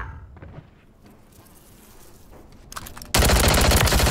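Submachine gun fire in a competitive shooter erupts suddenly near the end as a loud, rapid, continuous burst of shots, preceded by quieter ambient game sounds and a few faint clicks.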